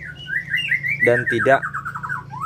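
A white-rumped shama (murai batu) sings a bright warbling, whistled phrase, close and clear, while someone speaks briefly over it and a low hum runs beneath.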